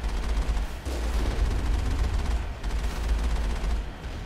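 Automated turret gunfire in the video game Mass Effect, on a blizzard-swept snowfield on Noveria: a dense, sustained stream of rapid shots that stays loud and close for the whole stretch, with a brief dip partway through.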